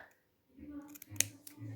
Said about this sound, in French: on prend les ciseaux et on va couper des fentes comme ceci